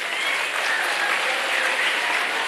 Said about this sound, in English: Give a big round of applause for the minister.